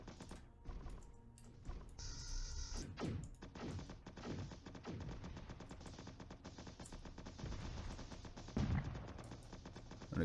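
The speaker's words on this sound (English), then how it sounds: "So this has a timed secondary laser, and it has its missiles as well." A small ship in Solar Smash 2D firing a timed secondary laser and missiles, rapid repeated zapping shots in a dense stream with a few heavier bursts, loud over synthetic game sound.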